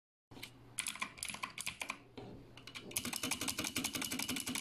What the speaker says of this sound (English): Does your keyboard sound like this?